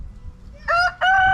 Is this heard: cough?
no